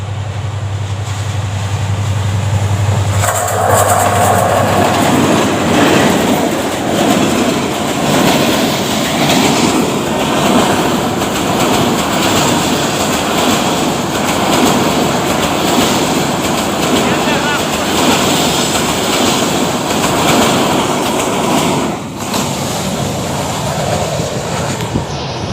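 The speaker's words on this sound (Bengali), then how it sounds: "খুব বন্ধুরা ট্রেন আসছে, আপনারা দেখরা" A train rolls slowly over a heavy railway bridge, with a continuous loud rumble and clattering wheels for the whole stretch, and someone speaks briefly over it.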